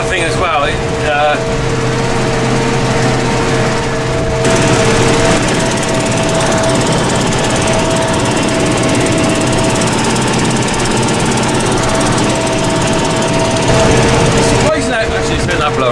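A fertiliser spreader runs loud and close in a field, a steady rattling, chattering engine drone that barely changes throughout, with a faint hum under it.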